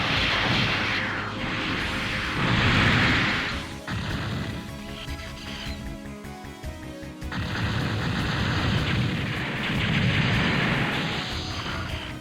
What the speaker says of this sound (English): So now you can take that thing down with the homing missiles.